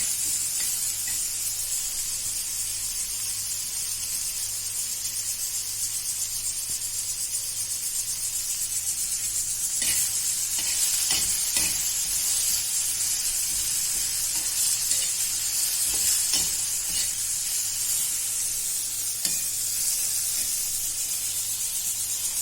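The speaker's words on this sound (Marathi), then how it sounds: "त्याला थोडं छान फ्राय करून घ्यायचं" Mutton frying in a pan for a mutton curry, with a continuous loud sizzle and hiss near at hand and occasional scraping knocks as the pieces are stirred.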